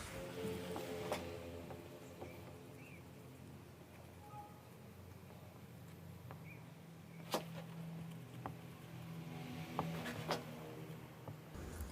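A pen scratches across paper while a math proof showing that √5 is irrational is written out by hand, faint close strokes and taps in a quiet room.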